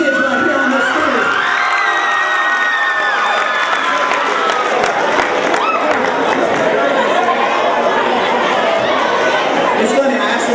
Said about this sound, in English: I want you to applaud these kids right here on the stage.